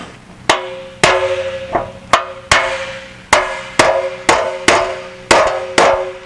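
Repeated sharp metallic hammer blows shape a thin aluminum Jaguar E-Type bonnet panel, about eleven strikes in a steady rhythm, each ringing briefly before the next.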